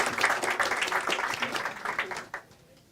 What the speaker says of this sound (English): Big round of applause for Zlatina.